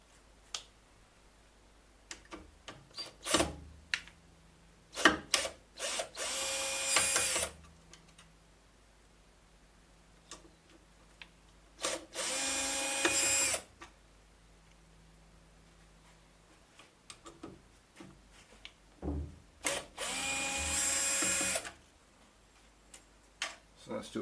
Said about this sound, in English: So that's just removing these tie down bars